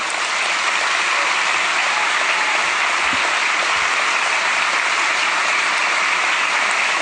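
An audience applauds continuously and loudly, a dense, even wash of many hands clapping without a break.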